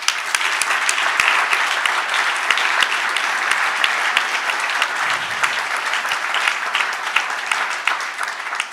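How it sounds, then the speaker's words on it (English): Sustained applause from a conference audience at a financial instruments event, dense steady clapping filling the room at even loudness throughout with no talk over it. "So I think that team need a huge round of applause."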